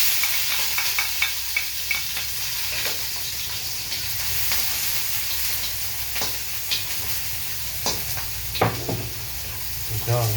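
Onion and garlic sizzle in olive oil for pansit, a steady close frying hiss broken by clinks and scrapes of stirring, with a voice speaking briefly.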